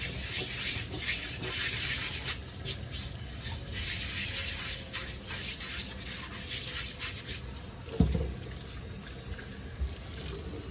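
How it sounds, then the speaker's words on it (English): Stone molcajete being rinsed and scrubbed under running water: a steady tap stream with rubbing and gritty scraping against the stone, close up and continuous, with one dull knock near the end. "always clean your molcajete before we use it"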